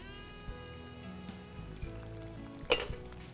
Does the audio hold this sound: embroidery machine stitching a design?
no